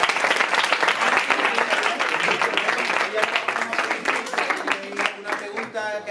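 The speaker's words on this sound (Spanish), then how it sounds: "Así que recibamos con un fuerte aplauso a Esther." An audience at a radiophysics residency training session claps loudly to welcome a speaker, with dense, steady clapping that thins out toward the end.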